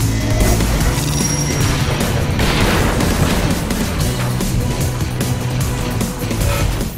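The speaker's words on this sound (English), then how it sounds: "cars and explosions roar through some very aggressive positional audio" Cars racing and explosions in the video game Split/Second, a dense, loud wall of engine roar and booming blasts rolling on without pause and no voices.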